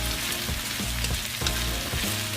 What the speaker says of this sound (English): We're gonna stir fry it again.